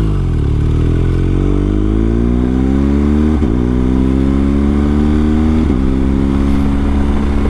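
BMW R1250GS motorcycle fitted with a BT-Moto Stage 1 upgrade accelerating hard, engine note rising steadily through two quick gear changes, loud and close with no voices.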